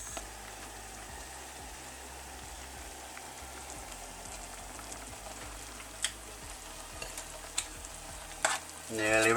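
Noodles and chicken fry in a non-stick pan with a steady, soft sizzle, followed by a few clinks and a louder burst of spitting near the end.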